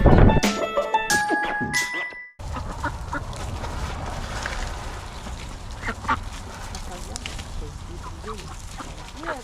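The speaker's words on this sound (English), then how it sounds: "it's not as easy as you think trying to herd these geese, ducks" Ducks quack repeatedly at close range amid outdoor farm background noise, after a brief loud jumble of other sounds at the start.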